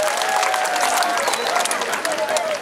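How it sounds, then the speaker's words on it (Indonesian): A large crowd applauds at the closing of the Bali Arts Festival, steady dense clapping that holds at an even level, with a voice faintly over it. "Tepuk tangan untuk masyarakat Bali dan pengunjung khususnya."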